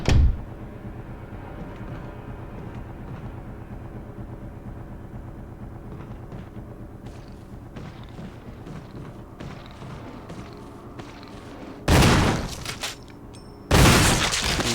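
Sustained rumbling from Resident Evil with scattered thuds, then two loud bursts of gunfire near the end, the second following the first after a short pause.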